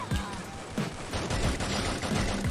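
Close-range headshot gunfire in the mobile shooter Free Fire, a quick series of sharp shots in rapid succession, with a brief voice under the shots.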